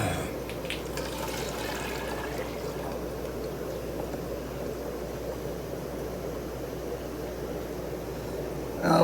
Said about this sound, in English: Take some more water out of there.